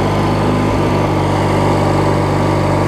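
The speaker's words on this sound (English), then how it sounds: "you can tell the governor's off or something like that because it's cycling up and down a little bit" A Craftsman lawn mower's Briggs opposed-twin engine runs loud and close with a steady droning hum, its speed cycling slightly up and down from a faulty governor; no voices.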